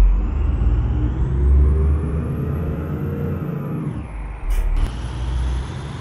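Air brake on a Desh Travels bus in Bangladesh releasing with a sharp, short hiss near the end, over a loud idling engine rumble during heavy rain and traffic.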